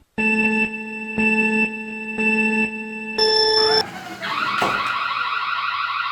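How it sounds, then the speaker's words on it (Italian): An IMILAB EC3 Lite outdoor security camera sounds its intrusion alarm: a steady electronic tone pulsing in three on-off bursts, then a higher continuous tone, shifting into a different sustained siren-like wail, loud and close. "quando passerà davanti alla telecamera, se tutto va bene, scatterà l'allarme"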